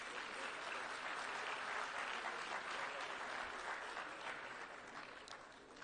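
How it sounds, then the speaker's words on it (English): Audience at a food sovereignty conference closing ceremony gives the panelists a steady round of applause, a dense even wash of clapping from a large hall that holds level and then tapers slightly near the end. "Please give them a round of applause"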